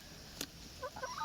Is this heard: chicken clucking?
yes